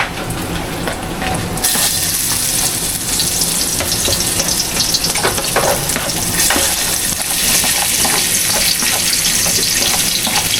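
Garlic and onion frying in a pan give a loud, continuous close-up sizzle with stirring scrapes. The sizzle brightens sharply after the first couple of seconds and then holds steady without any voices.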